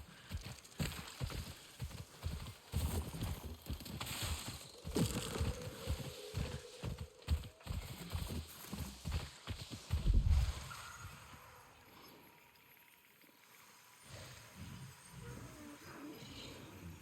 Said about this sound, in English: This horse does not get controlled easily.